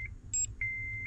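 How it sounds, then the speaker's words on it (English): Short electronic beeps from a Honda or Acura car during key programming with a key maker: one brief high tone, then a longer steady tone, clear and close with no talk. "single beeps"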